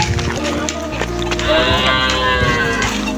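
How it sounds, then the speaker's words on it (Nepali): A cow lets out a long, loud, close moo in a jungle picnic setting, the drawn-out lowing call rising and holding over a steady background hum. "गाई नजिकदेखि देखाउँछु"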